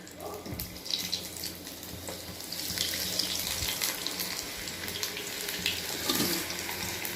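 Coconut kadubu dumplings frying in hot oil over a medium flame, with a steady, dense hiss and crackle that swells slightly as more dumplings go in, close and continuous.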